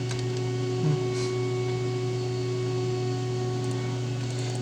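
A vacuum cleaner runs in the background, giving a steady droning whir with a low electrical hum that holds unchanged throughout, with no speech over it.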